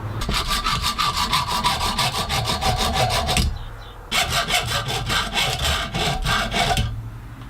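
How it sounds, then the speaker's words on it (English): Brass pins being cut by hand with a saw for an ebony and brass knife handle: steady, rapid back-and-forth rasping strokes, close and loud, in two long bursts separated by a brief pause. "I need to cut the brass pins so that I can align each hole as I drill them"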